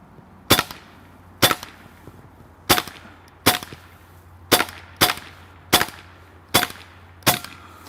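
A PCP semi-automatic .22 caliber (5.5 mm) air rifle fires nine sharp, loud cracks at roughly one-second intervals. Each crack is followed by a brief echo, with no talking in between.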